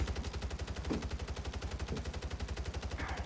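Rapid automatic gunfire from the Solo Subverter in Call of Duty: Warzone, a steady, evenly spaced stream of close, loud shots lasting the whole stretch with no pause.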